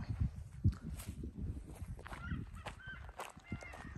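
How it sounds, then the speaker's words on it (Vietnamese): Faint, distant quacking from ducks mixes with soft shuffling footsteps and low farmyard noise. "Con vịt nó kêu cạc quạc đó."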